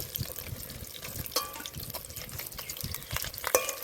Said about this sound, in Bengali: মাছগুলো ভাজা হয়ে গেছে এখন তুলে নেব